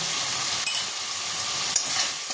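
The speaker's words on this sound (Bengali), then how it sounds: "দিয়ে আবার ভালো করে মশলাটাকে কষিয়ে নেব।" Masala with turmeric and salt sautés in a pan for a tangra fish curry, giving a bright, dense sizzle with a couple of quick spatula scrapes, close and steady.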